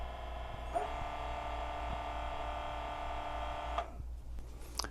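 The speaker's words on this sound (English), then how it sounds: "The top one is purge. You're gonna hear the high pitch." Option-O Lagom P80 coffee grinder running with a steady electric motor whine and hum, then cutting off abruptly near the end, leaving a quiet room; loud, continuous, no voices.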